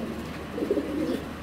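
A giant Netherlands racer pigeon gives a soft, low cooing phrase, close and fairly quiet, lasting barely over a second with no talking.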